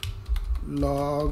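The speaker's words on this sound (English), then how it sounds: "I'm just typing it" Fast, light clicks of typing on a computer keyboard while a syslog server profile is set up, heard under a man's speech, with a steady tonal hum coming in during the second half.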